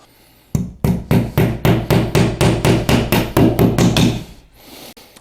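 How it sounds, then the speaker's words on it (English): A hammer drives a nail into a wall while a TV mount is installed, about a dozen loud, evenly spaced strikes in quick rhythm, close by, then a couple of lighter taps after a pause. "Of course, you need a hammer too. So to install the nail"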